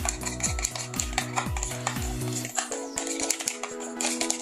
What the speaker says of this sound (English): So now I'm going to mix all this together.